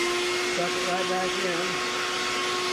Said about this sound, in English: Bring our vacuum over.